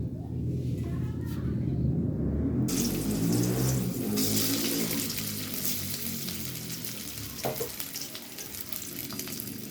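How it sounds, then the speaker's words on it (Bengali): Fish paste and mashed potato paste sizzle and fry in hot oil in a pan, a steady crackling hiss with occasional stirring scrapes, close and loud throughout. "মাছের পেস্ট আর এই যে আলুর পেস্ট, এই দুটোকে আমি একটুখানি কষে নেব"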